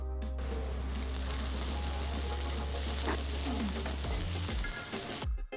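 Steady, loud sizzling of onion masala with ginger, garlic and green chilli frying in a hot pan for a fish dish, continuous crackle with occasional stirring scrapes, close up and without voices.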